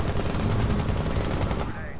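Rapid, sustained light machine gun fire from a video game, a dense unbroken burst of shots that runs loud and close for about two seconds before cutting off, with a faint trace of voice underneath.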